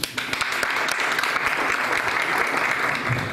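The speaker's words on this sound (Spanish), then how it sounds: "Para él pido un fuerte aplauso." An audience at a 35th anniversary celebration for Grupo GRADA breaks into a warm, sustained round of applause, many hands clapping densely and evenly at moderate volume, with no voices over it.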